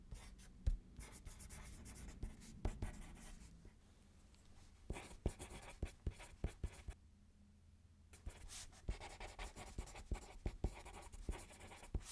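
A pen scratches and scribbles across paper in an ASMR setting, close and soft, with steady strokes broken by short pauses and one quiet gap midway, no voices.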